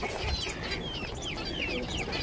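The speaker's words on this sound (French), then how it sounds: "des poules Cléopâtre" Cleopatra hens clucking in an aviary, several overlapping soft clucks and chirpy calls over a steady outdoor background, fairly close and continuous.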